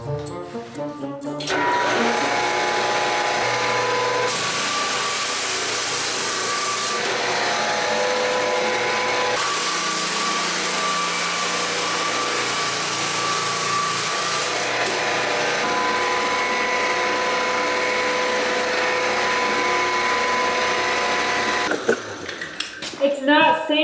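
A loud, steady machine drone of a floor sander grinding across 110-year-old wooden boards, uneven with one board higher, with grating texture shifting as it moves, continuing almost nonstop before cutting off.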